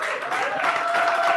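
A live session audience claps again in a full, steady round of applause, with a sustained tonal hum running beneath the clapping.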